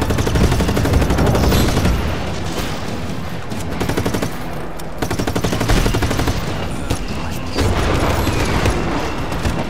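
Dense, loud automatic gunfire and booming shots in the Just Cause 3 video game, continuous bursts with explosions filling the scene, no talk.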